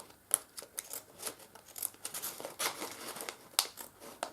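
Quiet, close snipping and crinkling as large scissors cut through cardstock in a series of short, irregular strokes, with no talking.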